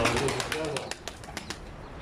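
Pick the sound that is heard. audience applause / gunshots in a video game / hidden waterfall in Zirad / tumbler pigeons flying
tumbler pigeons flying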